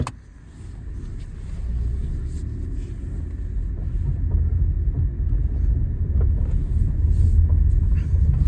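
A 2020 Citroen C3 Aircross with a 1.2 PureTech 110PS petrol engine and 6-speed gearbox drives slowly around a yard, giving a steady low engine rumble and road noise that builds slightly as it moves, with no talk.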